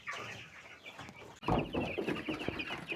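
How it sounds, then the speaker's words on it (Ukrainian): Broiler chickens in a barn cluck and murmur softly, with a few scattered peeps and shuffling close by, growing busier and slightly louder partway through. "Зараз я покажу вам бройлерів."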